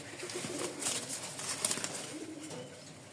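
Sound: Lakha fantail pigeons cooing

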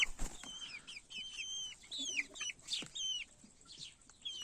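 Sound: chickens clucking

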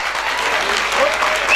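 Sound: applause

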